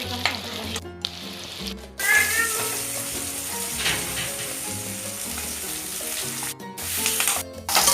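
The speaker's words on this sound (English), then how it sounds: "I am adding some onions and capsicums and frying them in the oil." Onions and capsicums sizzle in hot oil in a pan, a steady close frying hiss with a few short breaks and stirring noises.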